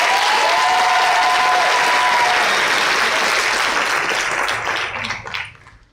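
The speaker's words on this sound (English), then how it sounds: "How about another round of applause for our 4 performances this evening?" A school audience applauds band performances at an honor society evening, with steady, dense clapping that fills the hall and fades out at the end.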